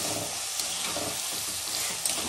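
Fried ingredients for a dried fish curry, with radish added, are stirred in a clay pot, giving a steady close sizzle and scraping with no voices.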